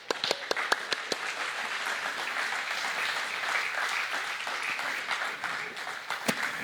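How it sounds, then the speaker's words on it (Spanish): A church congregation applauds during a Bible study service, brisk scattered hand claps building into steady applause, moderately distant and without talk. "Dele palmas."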